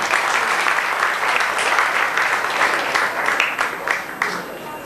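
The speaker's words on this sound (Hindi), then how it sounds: "हम एक जोरदार तालियों से उनका भी स्वागत करते हैं।" A large audience claps loudly and steadily to welcome a guest's wife at a gathering, dense applause sustained throughout with a few sharper clap bursts.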